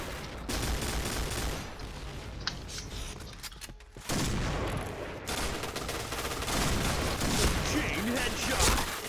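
Rapid bursts of Famas G2 rifle fire sound in a Point Blank match, loud rattling volleys with a brief lull partway through, and a voice can be heard at times.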